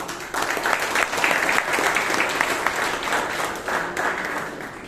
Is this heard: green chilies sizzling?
no